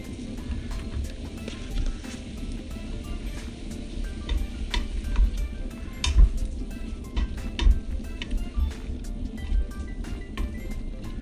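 Chorizo fries in a pan while being stirred for Filipino stir-fried noodles, pancit bihon with canton: a steady low sizzle with scattered sharp utensil clicks and scrapes against the pan, close and moderately loud, with no talking.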